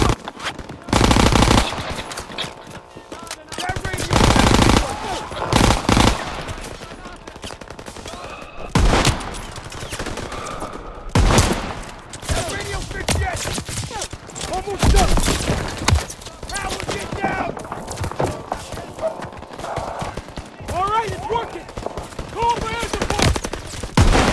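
Heavy gunfire in Call of Duty WW2 combat, loud sustained machine-gun bursts and rifle shots in dense irregular volleys over nearly half a minute, mixed with shouted voices.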